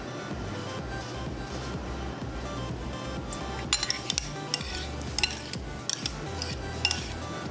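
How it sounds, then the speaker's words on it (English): A utensil mixes a tofu kabob marinade of lemon juice, salt, pepper and olive oil in a bowl, quiet scraping with a few sharp clinks against the dish. "Okay, mix it."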